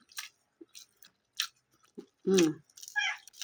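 Someone bites into crispy lechon kawali, deep-fried pork belly, making a few close, crunchy chewing bites in short bursts separated by near silence.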